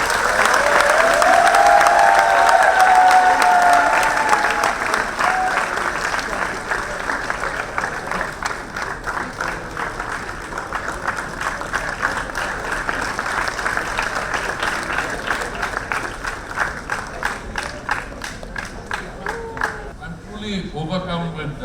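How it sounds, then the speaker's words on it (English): A large audience applauds steadily at a university centenary launch event, loud sustained clapping that begins with a brief cheer and runs on without pause before a voice starts at the very end. "Give a huge round of applause."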